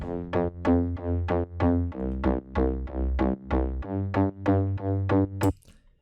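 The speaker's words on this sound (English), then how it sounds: "The bass sounds like this." A future house bass synth plays a repeating triplet pattern of punchy, pitched notes with bright attacks and short decays, steady and loud for about five seconds before it cuts off.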